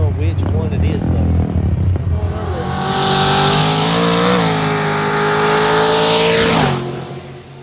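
A Camaro and a Mustang drag racing side by side rev hard and accelerate, engine pitch climbing through gears before cutting off, loud and near, with a voice commentating.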